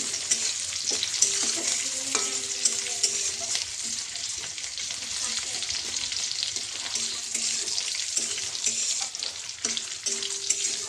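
Bay leaf and cumin temper in hot oil with ginger, giving a loud continuous sizzle and spatter, with occasional utensil clinks and stirring sounds throughout.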